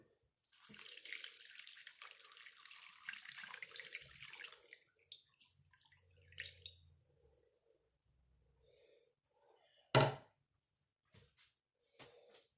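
Liquid is poured into a pot of shrimp and sausage gumbo, giving a soft, faint splashing stream for several seconds, followed by quiet clinks and one sharp knock.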